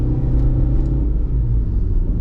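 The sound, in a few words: 1998 Renault Megane Scenic engine accelerating uphill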